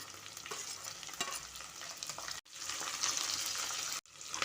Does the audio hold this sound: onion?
yes